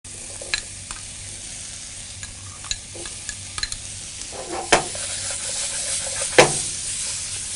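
A mango salsa pizza topping of mango, black pepper powder, chili flakes and oregano is stirred, giving soft scraping clicks and a couple of sharper knocks over a steady background hiss.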